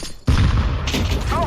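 Grenade blast in Counter-Strike: Global Offensive, a loud sudden boom after a brief quiet moment, followed by a sustained rumbling roar that stays dense to the end.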